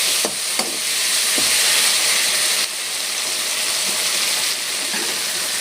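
Onion, tomato and capsicum frying in oil in a pan, a steady loud sizzle and hiss throughout with a few faint clinks from stirring.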